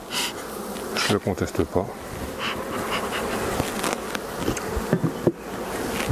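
A dense, steady drone of honey bees in a crowded hive colony of more than 50,000 bees fills the sound, close and continuous, with a brief spoken phrase in French over it.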